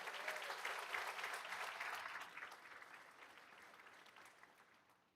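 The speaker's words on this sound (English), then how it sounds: "Another round of applause, please," Applause from the audience at a school board meeting for a football coach, a dense burst of clapping that is loudest at the start and gradually fades away over several seconds.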